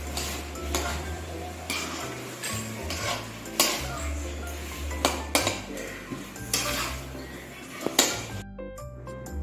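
A metal spoon scrapes and clatters against a kadhai in steady, repeated strokes while stirring boiled mango, with a soft sizzle underneath and no talking.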